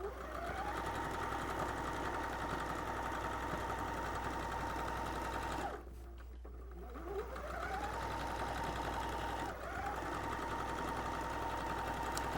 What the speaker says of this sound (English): Here I'm understitching a ruffle.